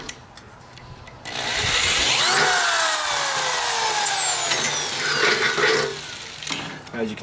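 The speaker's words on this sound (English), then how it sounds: "Drill a little larger hole here." A drill bores a larger hole into metal while building an aluminum foundry, a steady rising whine with a sweeping pitch that runs for about four seconds and then cuts off, with quieter handling noise before and after.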